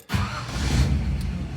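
A cold 1955 Ford Fairlane engine idles steadily as it warms up, a close, continuous low rumble with an even loudness after a brief silent start and no talking.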